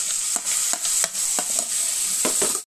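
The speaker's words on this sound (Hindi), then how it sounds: "बस इनको थोड़ा सा भून लेना है, और फिर धीमी आंच में भूनेंगे हम मसालों को।" Spices fry in a hot pan for an Indian sarson ka saag tadka, a loud, steady sizzle broken by the scrape and clink of stirring, ending abruptly.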